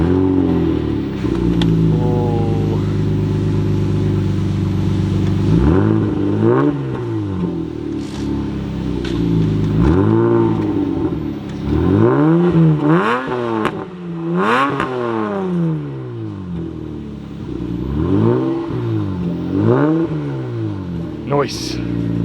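An MG car engine revs repeatedly, with loud rising and falling surges close by and a rough idle between bursts.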